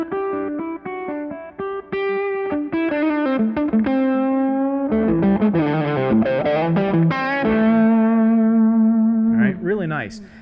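An electric guitar runs through an Allen Hinds AH1 distortion pedal, playing gritty overdriven single notes and short phrases, then longer held notes with a slight wobble, loud and close with no talking.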